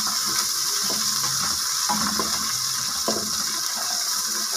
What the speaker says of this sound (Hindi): जिंजर गार्लिक पेस्ट को हमने थोड़ी देर पकाना है